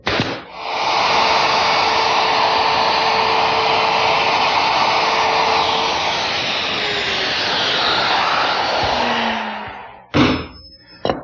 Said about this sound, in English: my router, which has a bearing at the top of the bit. That will ride around the inside of the cutout, and the bit will mortise it